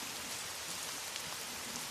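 Heavy rain pouring down in a steady close hiss, with scattered individual drops pattering on nearby surfaces and no talking.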